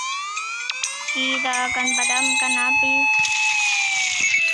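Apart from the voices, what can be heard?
fire engine siren in a car video game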